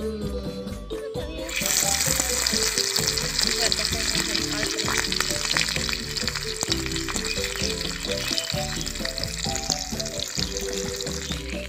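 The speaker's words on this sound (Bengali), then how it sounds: "মাছটাকে ভাজছে। কি হচ্ছে, কি ভাজা, মাছ ভাজা খাবো" Turmeric-coated fish fries in a miniature pan, a dense, steady sizzle with crackling pops that starts after a quiet moment and continues loudly, with music playing underneath.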